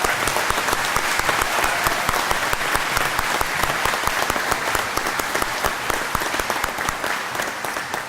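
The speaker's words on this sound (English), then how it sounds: "I would like now to ask if we could all have a round of applause for this year's graduates of Breton Education Center." An audience at a graduation ceremony for Breton Education Center graduates claps steadily, dense applause filling the room for about eight seconds with no voices standing out.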